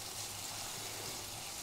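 Rice vermicelli for bihun goreng is stir-fried in a wok, giving a faint, continuous hissing sizzle without talk.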